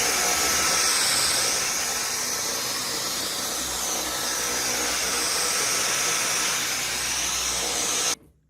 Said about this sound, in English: I love this vacuum for my hard floors